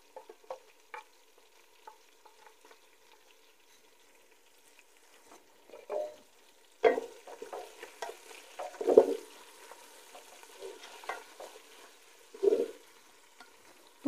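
Korma masala, turmeric, red chilli powder and whole round red chillies fry in a pan with a faint, low sizzle, broken by occasional scraping stirs that come more often toward the end.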